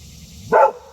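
A dog aboard a houseboat gives one short, sharp bark, close and loud against a quiet background.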